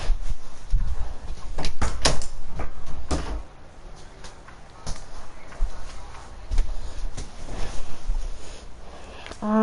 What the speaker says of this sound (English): Gotta shut my door real quick.